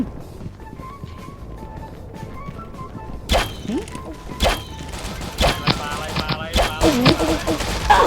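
Machine gun fire in Pixel Gun 3D, bursts of sharp shots crackling from about the three-second mark onward in irregular clusters, with a player talking over the game sounds.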